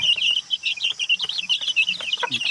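Black Dragon gamefowl chicks with their hen on a game farm, peeping in rapid high chirps with a few soft low clucks underneath, close and steady.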